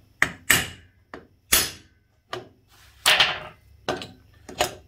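Close, sharp taps of a tool on a Ryobi grass strimmer engine to loosen the flywheel, about eight separate knocks at uneven intervals with quiet gaps between them.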